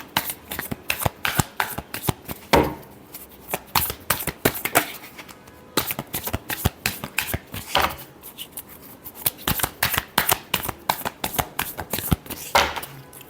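Tarot cards being shuffled by hand in steady, dense bursts of riffling and slapping, close and crisp, continuing without pause and with no voices over it.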